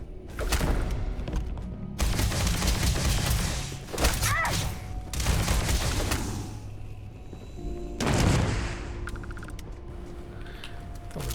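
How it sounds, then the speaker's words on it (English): Heavy booms and explosions go off in a space-fleet video game, several loud, sharp bursts at irregular intervals with rumbling tails and mechanical whirring between them. "Thought we were about to die in the explosion there."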